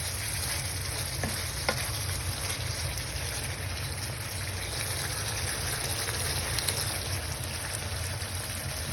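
Bicol Express sizzles and bubbles in a pan with a steady, dense frying hiss, close and continuous, broken only by a couple of faint clinks.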